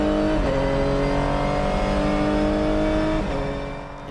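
A Funyo race car on the Motorland track accelerates at full throttle, its engine whining loudly and rising in pitch with two quick gear-shift dips before fading slightly at the end.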